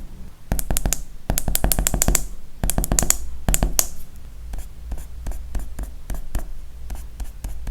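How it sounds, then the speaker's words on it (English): Pencil and eraser work on paper in close, crisp bursts of quick taps and scratches, irregular and busy, with no voices. "just adding more details with the use of the eraser and the pencil too"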